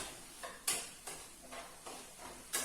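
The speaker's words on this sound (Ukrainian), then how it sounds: "Не забуваємо помішувати наш кабачок" Zucchini, peppers and cucumbers frying in a pan as they are stirred, with a series of about five sharp, scraping utensil strokes against the pan in an irregular rhythm over a soft, steady sizzle.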